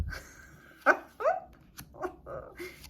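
Dogs giving a few short barks and yips at close range, scattered over a few seconds with no talking.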